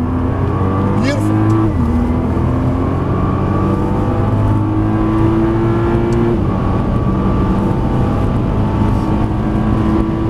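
A Nissan GT-R engine pulls hard on the Silverstone circuit, a loud continuous in-car drone rising and shifting in pitch through gear changes, with a voice speaking over it.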